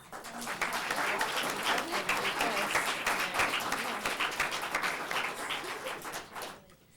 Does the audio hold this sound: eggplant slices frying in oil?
no